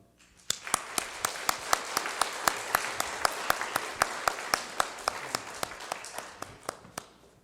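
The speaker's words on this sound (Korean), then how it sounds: "두 분이 함께 인사하실 때 큰 박수 부탁드리겠습니다" In a church during Sunday worship, a quiet backdrop of applause is punctuated by a steady run of sharp, evenly spaced single claps, as if people clap in unison.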